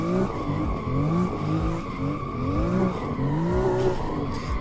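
Tires squeal and skid as a BMW M2 drifts in Assetto Corsa, with the engine revving loudly underneath in sustained, sweeping wails with no speech.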